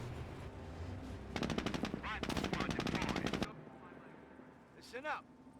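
An MG42 machine gun fires in Company of Heroes, two long rattling bursts of rapid shots, loud and close, followed by quieter battle sounds.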